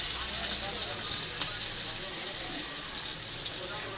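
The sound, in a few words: bangda fish frying in a pan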